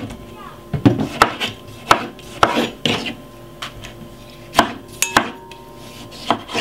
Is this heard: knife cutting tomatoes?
yes